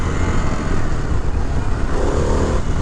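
A 2023 Harley-Davidson Pan America Special motorcycle engine runs steadily nearby with a constant loud rumble and road noise, no speech over it.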